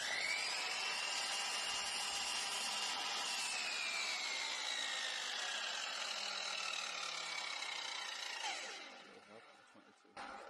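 A power saw makes a 22.5 degree bevel cut through wood for a Christmas centrepiece, a loud steady whine that drops in pitch under load and then winds down, with no talk.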